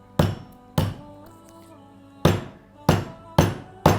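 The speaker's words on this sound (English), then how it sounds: "I'm just going to take a hammer like this and I'm going to smash it" A hammer pounds a stalk of lemongrass for Thai shrimp noodles, six sharp, loud knocks close by, with short pauses between, two early and four more near the end.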